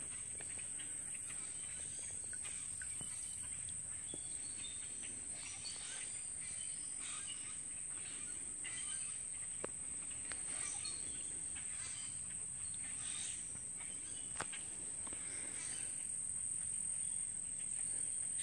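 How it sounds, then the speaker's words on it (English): Flooded timber teems with life: a dense, continuous wash of crickets and insects shrills under scattered bird chirps and calls, with occasional faint knocks, all at a steady middle distance. "the place is just alive with wildlife. Birds of every description"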